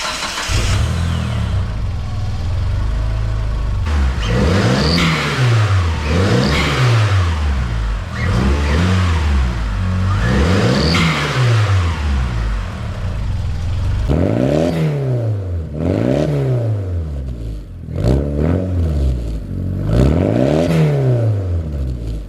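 A 1999 Mitsubishi Eclipse GSX with an intercooler and blow-off valve starts and is revved repeatedly, its engine note rising and falling in steady swells, loud and close, with no talk over it.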